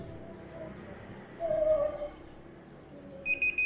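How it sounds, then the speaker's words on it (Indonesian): A buzzer on an ESP32 greenhouse system with a DHT11 sensor and LDR, a short steady electronic tone, then a pulsed beeping near the end, faint and close against low room noise. "Kita tunggu sampai LED-nya menyala dan buzzernya berbunyi."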